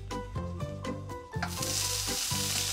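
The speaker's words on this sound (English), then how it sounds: "Next, we begin our sauteing process, starting with the onions" Onions sizzle in a little olive oil in a hot pan, seasoned with salt and pepper, a steady close hiss broken by repeated rhythmic scraping and stirring strokes.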